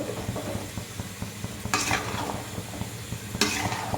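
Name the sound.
stirring chilli powder, onion and tomato mixture in pan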